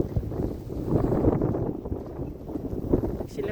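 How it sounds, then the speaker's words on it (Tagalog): Wind during a night storm, a loud, low rushing and buffeting that gusts unevenly across the microphone and swells and dips throughout. "Mahangin."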